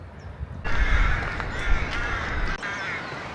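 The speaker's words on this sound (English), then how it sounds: "This noise is why they call it the rookery, because this is where the rooks have their nests and make an awful lot of noise" Rooks caw repeatedly at their nests in an outdoor rookery, a dense chorus of harsh overlapping calls at moderate distance, with wind rumble underneath.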